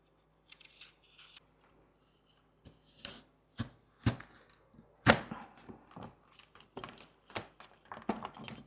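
A knife trims the ends off apples on a cutting board, giving a string of sharp, close chopping clicks and taps at an irregular pace with quiet rustling between.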